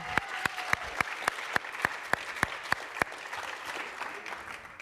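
Audience applause at a women's leadership celebration conference, heard as a steady run of distinct, evenly spaced claps, fairly faint and alone, fading out toward the end.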